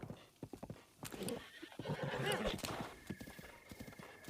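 Hooves clip-clop in quick rhythmic steps from a horse in The Legend of Zelda: Breath of the Wild, then a loud drawn-out neigh rises in the middle, with a voice faintly present.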